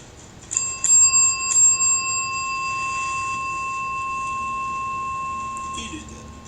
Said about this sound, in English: He rings the bell a few times to show James that it works